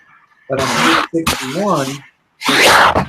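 A person gives a loud, close sneeze, a short burst that breaks into spoken words, with talk on either side of it.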